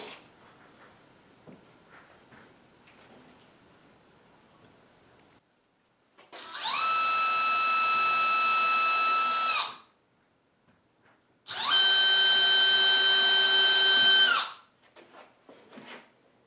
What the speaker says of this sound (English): pre-drill some holes